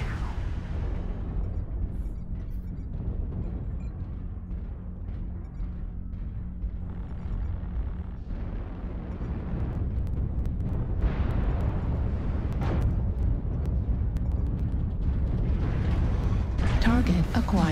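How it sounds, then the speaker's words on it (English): Artillery strike in MechWarrior Online, heard as a low rumbling roar of blasts building and rolling over roughly eighteen seconds, with sharper impacts toward the end and a voice speaking amid the barrage. "Artillery strike online. Artillery strike activated."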